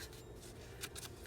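Paper ripped by hand along one side for a junk journal mini notebook, a few soft, quiet tearing rasps with brief bursts near the end, no talking.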